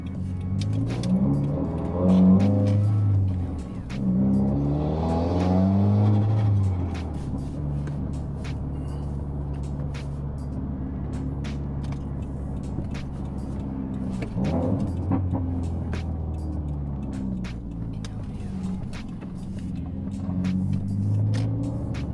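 Subaru WRX engine rumbling on a commute into Manhattan, a steady low drone with a couple of revving surges early on and continuous road noise throughout.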